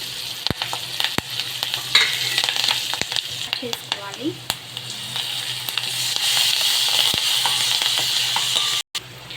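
Turmeric and curry leaves added to softened onions in hot oil, a bright continuous sizzle with scattered sharp crackles and stirring clicks, close to the pan, steady throughout.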